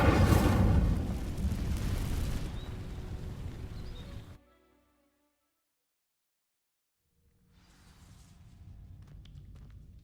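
A fire spell called Incendio sets dry vines ablaze in Hogwarts Legacy, a loud roaring whoosh lasting about four seconds before cutting off sharply into silence, followed by a softer, steady ambient hum.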